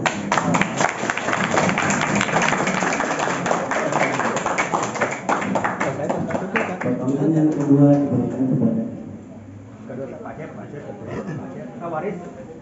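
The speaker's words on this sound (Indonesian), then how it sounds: "Tepuk tangan." Dense crowd applause rings out at a tumpeng-cutting celebration, loud and steady for several seconds before fading into quieter voices and scattered claps.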